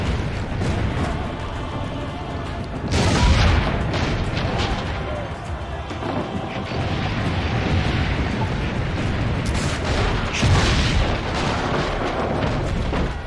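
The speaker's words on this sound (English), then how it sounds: "Keep loading the cannon!" Cannon fire in the video game Assassin's Creed Brotherhood, heavy booming blasts, two especially strong ones, over a constant rumble of battle with shouting voices mixed in.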